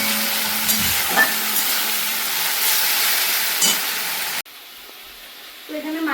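Stems and potato being sautéed in spices in a pan for a rohu fish curry, a steady loud sizzling hiss with a few stirring scrapes, then cutting abruptly to near quiet with a faint knock.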